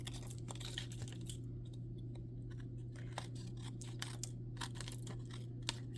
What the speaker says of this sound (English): we're just going to take our scissors and we'll trim around the white cardstock